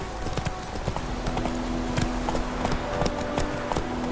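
Roach, a horse in The Witcher 3, trots with a steady, rhythmic clip-clop of hooves, close and clear over a constant low background ambience.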